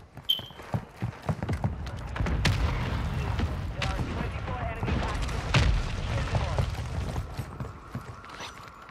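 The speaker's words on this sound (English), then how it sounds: "Friendly mortar strike on the way." Mortar strike explosions in Call of Duty land as a cluster of deep booms and rumbling impacts over several seconds, loud and dense, with voices mixed in.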